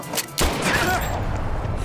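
Rapid gunfire bursts through a loud, dense action-film mix, a sustained barrage of shots with heavy low rumble that starts abruptly and continues to the end.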